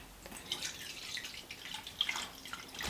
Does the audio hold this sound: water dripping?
yes